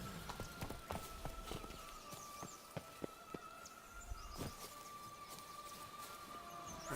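Horse hooves galloping in The Witcher 3: Blood and Wine, a steady rapid clip-clop of hoofbeats over a continuous ambient bed, fairly near and moderately loud, with no talking.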